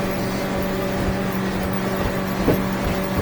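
Smokercraft Osprey boat with a Yamaha-style F70 outboard running through light chop, giving a steady loud engine drone with a low hum and wind buffeting, plus a brief slap around the middle.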